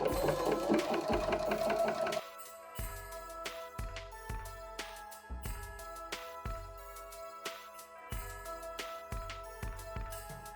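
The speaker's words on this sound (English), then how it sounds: "what we wanna do is very carefully edge stitch this bias binding down all the way around" A sewing machine edge-stitches bias binding around a fabric laptop case, running steadily and close in repeated short bursts with brief pauses and faint clicks.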